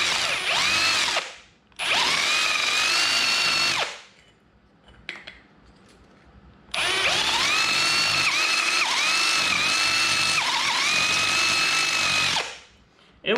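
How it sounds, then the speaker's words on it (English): A power drill countersinks holes in a metal part, letting its weight chew through, in two long loud whining bursts with rising and falling pitch, separated by a quiet pause with faint clicks. "just let the weight of the drill kind of chew through it"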